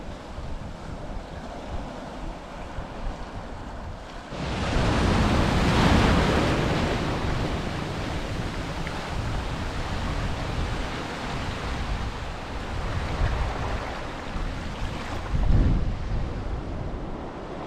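Ocean surf washes onto a beach at the Bay of Fires, Tasmania, as a steady roar under gusty wind buffeting the microphone, surging louder partway through and swelling again near the end.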